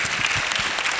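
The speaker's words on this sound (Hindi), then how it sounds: "जोरदार ताली से सत्कार करिए कृपया" An audience at a Sanskrit film festival talk show claps in a short, dense burst of applause, loud and close, with no voices over it.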